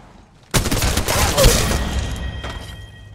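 Gunfire in the video game Apex Legends Mobile, a loud sudden burst of rapid shots that continues for about two seconds and then trails off, followed by a fainter shot.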